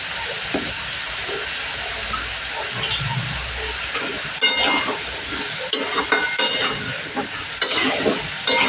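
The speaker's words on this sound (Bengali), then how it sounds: "এবার আমি ফুলকপি আলুটাকে অনেকক্ষণ ধরে ভালো করে মশলার সাথে কষিয়ে নিই।" Cauliflower and potato frying and being stirred with spices in a pan, a steady sizzle under repeated clinks and scrapes of the spoon that grow louder and sharper in the second half.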